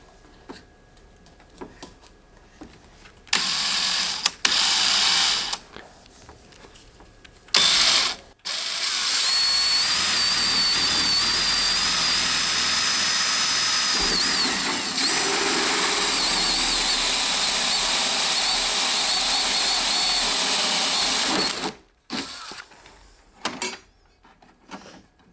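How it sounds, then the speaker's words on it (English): A power drill whirs steadily for several seconds while drilling a hole during a mini split installation, with a short burst earlier and scraping clicks around it, close and loud. "Hopefully I can drill this out without ruining it."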